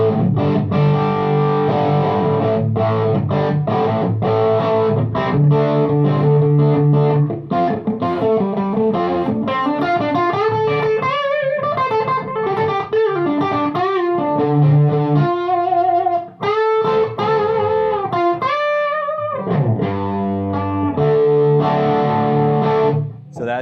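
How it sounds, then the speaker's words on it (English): Electric guitar played through the overdrive channel of a TSL amp, a continuous, loud run of distorted chords and note riffs with brief pauses, sounding alone without talk. "if I want to switch to the distortion channel"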